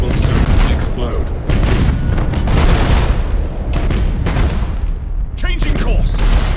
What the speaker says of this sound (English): We should keep our distance from the enemy ship, sir. It will soon explode.